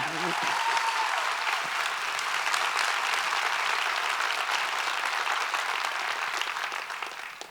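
Broad, steady applause from a plenary summit crowd for a musician, a dense wash of clapping that holds evenly and tapers off near the end.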